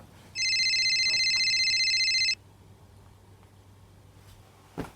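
A mobile phone rings indoors with a steady electronic two-tone ringtone lasting about two seconds, clear and prominent over a quiet background, followed by a brief faint knock.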